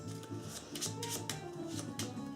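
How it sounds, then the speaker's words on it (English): Playing cards from a Legendary Buffy the Vampire Slayer deck-building game being shuffled by hand, a quiet, steady riffling and rustling close up that runs the whole time with no talk. "So just going to shuffle these up again."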